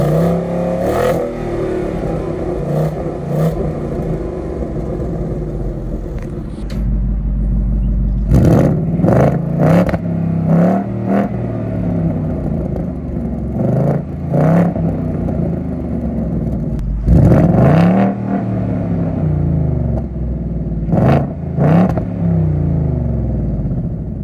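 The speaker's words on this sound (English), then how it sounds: "So you can change the exhaust note right here on demand if you have the live valve." A 2024 Ford Mustang GT V8 with active exhaust valves revs and idles through different exhaust modes, the note shifting in loudness and depth between repeated throttle blips, close and alone with no talk.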